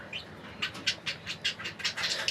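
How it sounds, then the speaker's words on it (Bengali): A pair of conure parrots at a bird seller's gives repeated sharp, high chirps in quick bursts, close and fairly loud, with no voices. "এইখানে দেখতে পাচ্ছেন একটা কুনুর পাখি"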